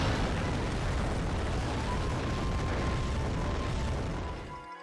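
A cannon fires in the Yu-Gi-Oh Falsebound Kingdom video game, producing a loud, sustained explosive roar that holds steady for several seconds before cutting off abruptly.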